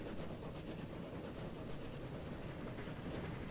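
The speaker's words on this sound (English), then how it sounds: "He's got to wait here. Train's coming through." A train rolls past in the railway building game Transport Fever, making a steady, low rumble with soft wheel clatter that holds level and quiet throughout.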